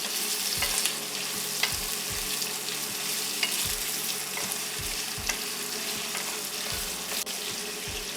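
Capsicum and celery stir-frying for restaurant-style chilli chicken, a steady loud sizzle in a hot pan broken by repeated low scraping strokes of a spatula, with no voices.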